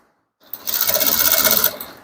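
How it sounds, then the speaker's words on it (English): A sewing machine top-stitches Ankara fabric pants in one steady close burst of rapid needle clatter lasting just over a second, starting and stopping abruptly. "So top stitch all through this way."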